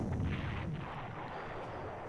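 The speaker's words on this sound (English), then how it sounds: "So let's grab our artillery." Artillery fire in the WWII strategy game Panzer Corps, a loud opening boom that rolls into a low, sustained rumbling roar lasting a couple of seconds, with no voices.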